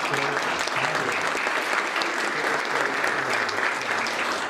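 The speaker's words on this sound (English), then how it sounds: "Let's give her a big round of applause." Sustained audience applause at a civic STEM ecosystem event in San Antonio, a dense, steady wash of many hands clapping throughout, fairly loud with faint voices mixed in.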